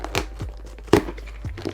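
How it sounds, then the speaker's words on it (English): Scissors snip and tear through packing tape on the envelope of a Leeventi teleprompter package, several short crinkly crunches and cuts up close with quiet pauses between. "Just cut it a bit more with the scissors here."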